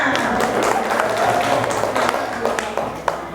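Audience clapping at a parenting seminar for mothers at an Islamic preschool, scattered claps from a modest crowd with a few sharper hits, a voice talking underneath.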